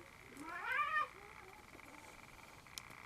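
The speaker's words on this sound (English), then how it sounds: "Cats, shut up." A cat meows once, loud and close, with a rising-falling wail, then faint quieter cat sounds in a quiet indoor room while a Transformers toy is reviewed.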